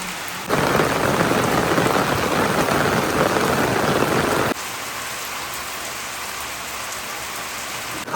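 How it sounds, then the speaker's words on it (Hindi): Heavy rain pours down in a dense, loud hiss, dropping to a softer but steady downpour partway through, with no voices. "अभी ऐसा लग रहा है कि वहाँ बहुत तगड़ी वाली बारिश होने लगी है।"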